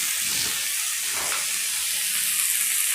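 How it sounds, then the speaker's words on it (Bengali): Gima greens frying in oil in a village kitchen, giving a loud, continuous hissing sizzle with a brief stirring swish, close up and with no one talking. "এই গিমা শাকটিকে ভালো করে তেলে একটু ভেজে নেব"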